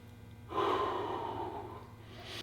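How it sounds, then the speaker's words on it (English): Someone sitting in an icy cold plunge takes one long, deep, audible breath lasting nearly two seconds and then begins another, close and breathy over a low hum. "Yeah, nice deep breaths."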